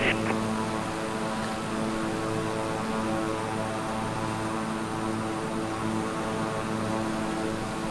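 Steady, droning twin turboprop engines of an analog King Air in Microsoft Flight Simulator, holding an even, continuous hum with a rough whirring edge throughout and no talking.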